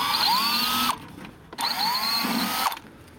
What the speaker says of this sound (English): So we've got the container, we're going to drill a hole